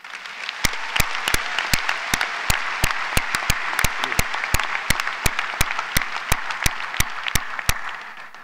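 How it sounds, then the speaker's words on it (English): Graduates at a spring college commencement applaud together, a dense steady wash of many hands clapping, with sharp louder claps standing out at regular intervals above the crowd. "Give yourselves a round of applause."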